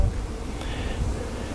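Bees hum in a dense, steady buzz at an open hive where new comb has been built, close and continuous with no talking over it.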